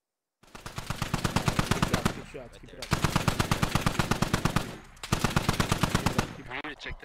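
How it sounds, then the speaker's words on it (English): Automatic weapons in the military shooter game Squad fire three long, rapid bursts with brief gaps between them. The shots are loud and close, and fainter voice-like noise sits in the pauses. "we got some shots fired somewhere"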